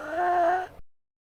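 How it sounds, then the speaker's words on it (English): A short, low moaning vocal cry from a Bonnie or Chica animatronic in a Godot remake of Five Nights at Freddy's, one sustained wavering groan under a second that fades quickly into silence. "Now I added the vocal sounds for when Bonnie and Chica get in"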